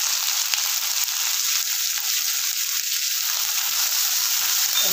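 Onions frying in a pan with garlic, a steady bright sizzle with no pauses, close and even throughout.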